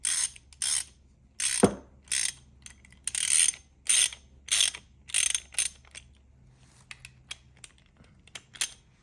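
Ratchet wrench tightening bolts during an oil cooler install on an Infiniti Q50 with the VQ37 engine, heard as bursts of quick clicking repeated about a dozen times, close and clear, with a sharp clank partway through.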